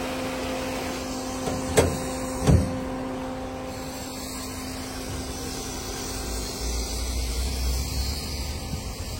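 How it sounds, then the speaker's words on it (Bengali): A 1600 cc 2013 Toyota Corolla's air conditioner runs inside the car as a steady, even whooshing hum, with two brief clicks near the start and no talking. "এসি সাউন্ড, দেখেন স্পষ্ট এসি সাউন্ড"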